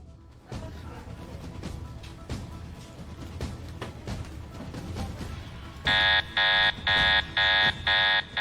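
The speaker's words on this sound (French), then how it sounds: "comme l'alarme s'est déclenchée" Shuffling and thumps give way to a loud electronic shop security alarm beeping in repeated regular pulses, about five bursts in quick succession.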